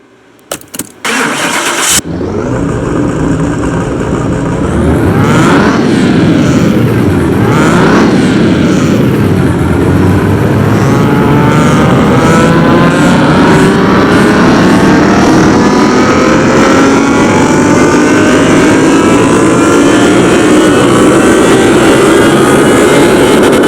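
A Rolls-Royce V6 in Car Mechanic Simulator 2021 cranks with a few sharp clicks, fires up and then revs hard and steadily on a dyno, its loud engine drone climbing in pitch for the rest of the run.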